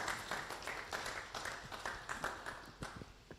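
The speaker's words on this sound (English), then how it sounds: "A round of applause for him." An audience at a youth business seminar claps together in a quick, uneven patter, faint and heard from a distance, with no talking.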